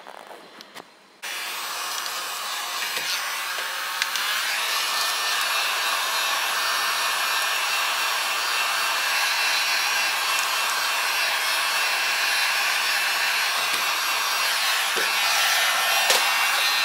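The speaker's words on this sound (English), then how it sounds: "All right, so let's get to shrink wrapping." A heat gun blows steadily as it shrinks wrap around handmade soaps, a continuous loud airy hiss starting abruptly after a brief quiet moment and holding for the rest of the stretch with no talking.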